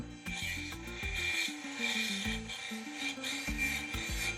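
An opal stone with caramel potch is ground and smoothed against a spinning wheel, a continuous close rasping scrape whose pitch shifts with each pass, steady throughout with no voices.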